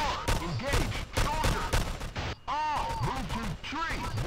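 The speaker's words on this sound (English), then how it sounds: "I'm shooting them" Rapid gunfire from guns in a shooter video game, bursts of shots crackling throughout with brief pauses, loud and close, overlapping with voices talking.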